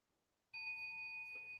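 A meditation bell rung once at the start of a Zen Dharma talk gives a clear, bright strike that holds as a steady ringing tone in a quiet room.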